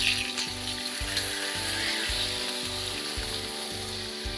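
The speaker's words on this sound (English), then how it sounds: "We're going to flip the salmon over so that the skin side is now down" Atlantic salmon sizzling skin side down in a hot pan just after flipping, a loud continuous frying hiss and crackle up close, with faint periodic low thumps underneath and no talking.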